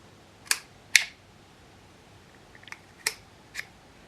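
Snips of cutting a bent metal rack ear during repair, two sharp clicks close together, a quiet pause, then three more lighter snips, close and dry with no talk.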